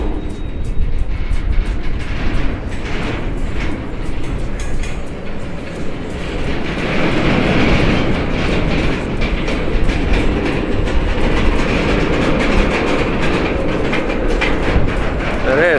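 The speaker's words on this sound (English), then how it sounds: "that train wants to start moving." A freight train starts rolling close by, with steady rumbling and rhythmic clickety-clack of the rail cars building over about sixteen seconds of continuous, fairly loud noise.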